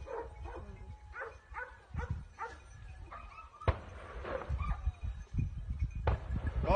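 Several dogs bark and yelp in quick, excited bursts while chasing a deer near a cliff edge, loud and close, mixed with rustling movement and some shouting.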